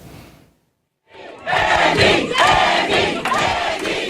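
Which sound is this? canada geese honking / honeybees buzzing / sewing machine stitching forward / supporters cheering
supporters cheering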